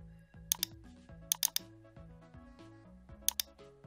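Keys on a computer keyboard are tapped while entering data into an Excel mark sheet. The sharp clicks come in short bursts of two or three over faint tonal background sounds.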